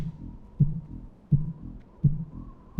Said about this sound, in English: And then the heartbeat-ish noise, it's more of a rave-based noise-ish thing